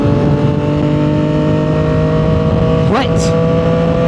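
CFMOTO motorcycle with a new full exhaust, the 2025 CFMOTO 675 SS, holding a loud, close, steady idle drone with a brief sharp rev-like sweep near the end.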